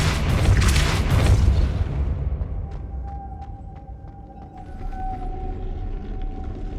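Depulso spell cast in the Hogwarts Legacy game, a loud deep boom that rolls out and fades over a couple of seconds, followed by a thin ringing tone and scattered faint clicks.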